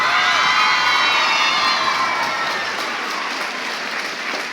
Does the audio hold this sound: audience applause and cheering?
yes